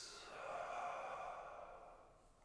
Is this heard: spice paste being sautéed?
no